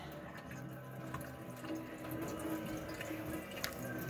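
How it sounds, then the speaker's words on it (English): Tap water runs steadily over raw meat in a sink while jerky is being prepared, a continuous close splashing wash with no talk over it. "Run the water through so all the blood's gone."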